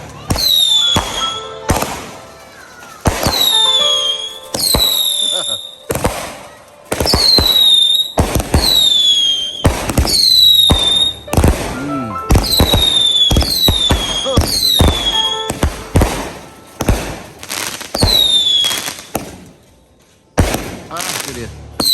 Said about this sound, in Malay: Bunga api yang kedua.